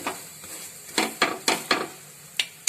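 Reshmi paratha cooking in ghee on a pan, giving a soft bed of sizzle broken by several sharp clinks and scrapes of a utensil against the pan at irregular intervals, close and fairly quiet.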